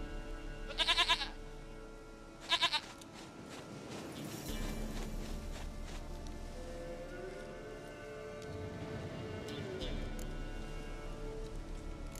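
A goat in The Witcher 3 video game bleats twice in quick, wavering calls near the start, followed by steady rain-like ambient noise and other game sounds.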